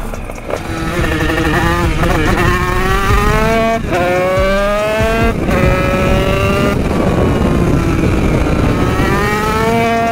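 Loud, close engine of a DTR 96 motorcycle being ridden, revving up repeatedly through gear changes with rising pitch sweeps and a steady droning roar throughout, no voices.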